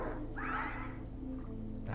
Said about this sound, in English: Lots of dinosaurs making noise around me.